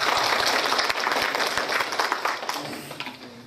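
Audience at a lecture in Xiamen breaks into warm applause to welcome the speaker, dense steady clapping from many hands that stays loud, then slowly thins and fades toward the end.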